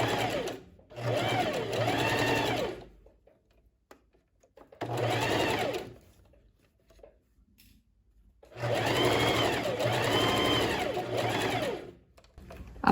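A sewing machine stitches the left and right waist darts of a tailored vest lining in three separate bursts of steady whirring, with quiet pauses between runs.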